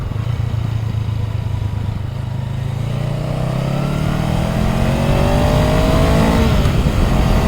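2023 Honda Rebel CMX500 SE motorcycle engine revving, a loud, close, steady engine drone climbing in pitch as the revs build, with no talking.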